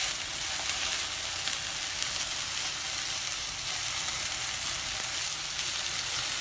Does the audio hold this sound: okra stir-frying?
yes